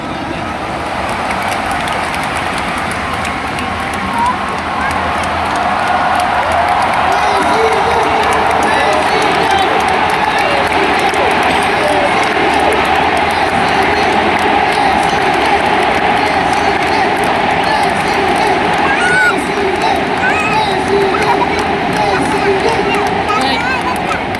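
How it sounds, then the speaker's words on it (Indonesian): Large crowd at a 2024 Indonesian presidential election campaign rally in a stadium, with continuous loud cheering and applause sustained throughout, voices and shouts blending into a dense roar. "Berikan tepuk tangan yang paling meriah buat beliau."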